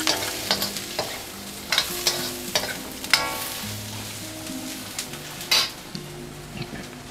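Shiitake mushrooms stir-fried in a pan, with a soft sizzle under repeated sharp clinks and scrapes of a utensil against the pan, close and uneven in rhythm.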